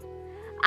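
A duck gives a single short, nasal quack at the very end, close and fairly loud, after a moment of quiet low hum in an open rural setting of green fields.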